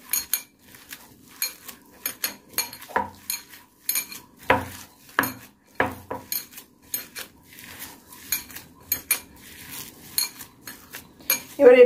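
Chicken kofta mixture being mixed by hand in a bowl, with repeated clinks and scrapes of utensils against the dish in an irregular rhythm, close and fairly loud.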